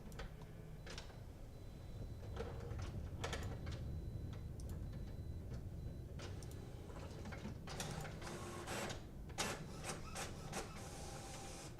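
A printer churns away as it tries to print a page, giving steady mechanical whirring with repeated clicks and ratcheting ticks at a low, even level, with no talk over it.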